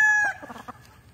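A black and brown red hatch gamefowl rooster gives one short, close crow that trails into a few clucking notes, heard alone without talk.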